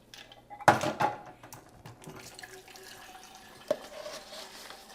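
Ice water poured in a kitchen for homemade oat milk, starting with a sudden loud splash and clink, then a quieter trickle and a single sharp tap near the end.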